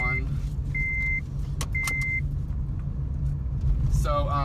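A manual-transmission car drives in second gear after the clutch is let out slowly. Its engine gives a steady, close, low rumble throughout, with a few short electronic beeps and a brief voice near the end.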